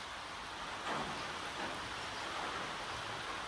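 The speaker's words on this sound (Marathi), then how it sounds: "झिमझिम पाऊस येतोय" Steady drizzle of light rain falling outdoors, a soft even hiss that stays constant throughout with no speech.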